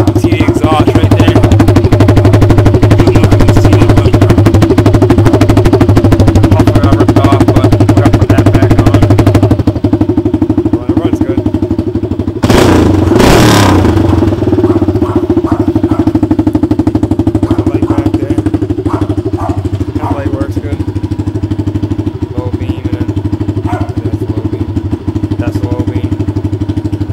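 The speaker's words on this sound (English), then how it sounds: "It's loud because the muffler ripped off right now." A loud, raw 1997 Kawasaki Mojave 250 ATV engine rumbles steadily at close range, harsh and unmuffled with its muffler ripped off, with a brief sharp clatter midway.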